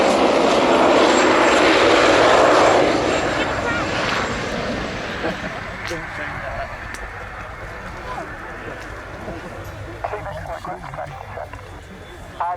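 A naval helicopter, a shipborne type once armed with SS-11 and AS-12 wire-guided missiles, roars loudly at the Yeovilton International Air Day 2016 air show; the engine and rotor noise swells for a few seconds, then eases into a steadier drone under a commentator's voice.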